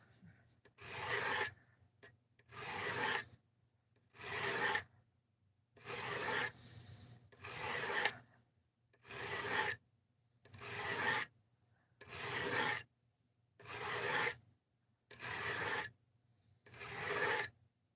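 Blade strokes across a coarse 200 grit diamond sharpening stone, a run of eleven steady rasping passes in a regular rhythm with brief pauses between, close and fairly loud, no talking.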